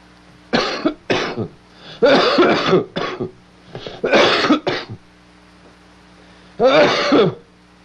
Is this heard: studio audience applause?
no